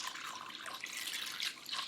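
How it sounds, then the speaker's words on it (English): Water pours steadily into a large mixing bowl of cut spare ribs, a bright continuous splashing that runs close and moderately quiet for its whole length with no talking. "Pour in the water"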